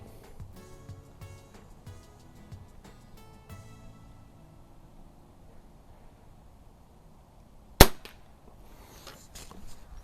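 A Walther LGR air rifle fitted with a scope fires a single sharp, loud shot near the close, preceded by quieter clicks and handling sounds of loading.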